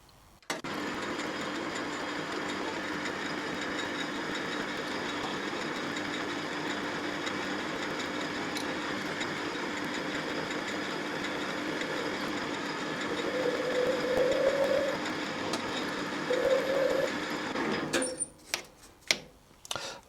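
A lathe drilling a deep centre hole in the end of a Quorn Mk3 tool grinder spindle, a steady machine hum with a rising whine near the end before it stops and leaves a few sharp knocks.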